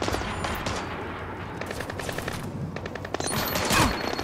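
Rapid bursts of automatic gunfire from the video game Splinter Cell Blacklist crackle in dense, repeated volleys, with a louder burst near the end.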